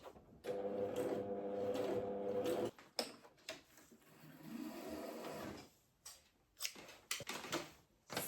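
A sewing machine stitches a fabric frill for a bathroom curtain, running in two steady whirring stretches of a couple of seconds each, then a few short stop-start bursts, close and clear.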